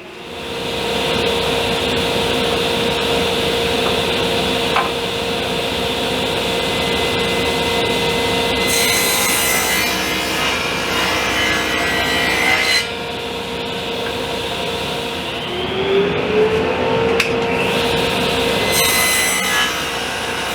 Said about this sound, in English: I'm going to cut a groove